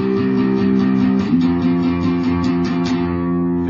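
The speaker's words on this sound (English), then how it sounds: "you're going to strum that power chord 8 times" Distorted electric guitar power chord strummed in a rapid even run of downstrokes, the riff from Blink-182's All The Small Things, played loud and alone with a slight slide between positions.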